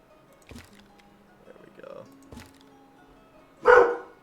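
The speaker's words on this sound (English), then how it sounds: "no barking. God, my freaking dog." One loud, sharp dog bark bursts out near the end after a stretch of quiet background noise and faint sounds.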